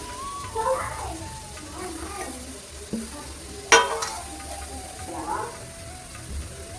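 Chopped vegetables go into a pan for a prawn curry, and a soft frying sizzle with stirring scrapes and a sharp clank runs under a voice and children's chatter.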